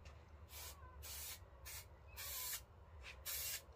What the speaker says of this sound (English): How does this glue spray?